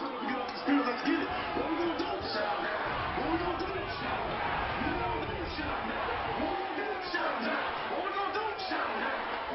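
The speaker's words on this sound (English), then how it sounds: "Jackson State crowd getting riled up for this 3rd down and 9 to go" A large stadium crowd at a 2017 Jackson State Tigers home college football game against Alcorn State, roaring and cheering steadily at a distance for a third down, with a commentator talking over the noise.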